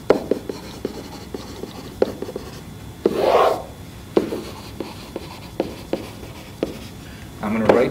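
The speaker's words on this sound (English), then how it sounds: "I'm going to write down my given information first." Pen or pencil scratching on paper as someone writes out a geometry proof, short strokes with taps and pauses, close and fairly quiet, with a soft rubbing swell in the middle.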